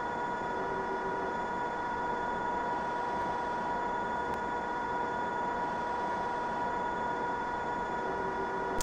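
Manchester Metrolink Rose Line tram running, a steady droning rumble and hum of the moving vehicle with a constant tone, heard from inside and unbroken throughout.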